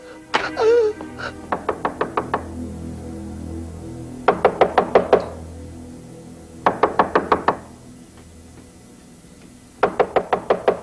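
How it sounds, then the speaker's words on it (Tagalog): Knocking on a wooden door in a Filipino action film, delivered as several separate bursts of quick, sharp raps with pauses between them, close and distinct, with faint voices. "Benito, buksan mo pinto."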